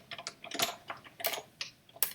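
A die cutting machine clicks as plates are cranked through it, giving a quick run of light, irregular ticks close by, some sharper than others.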